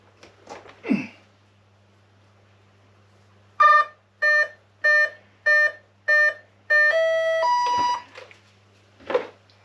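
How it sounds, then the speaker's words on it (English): A series of short electronic beeps from an RC jet/VTOL Harrier model's electronics, six regular tones followed by a longer two-pitch chime, with faint clicks and a breath before and after. "6 beeps."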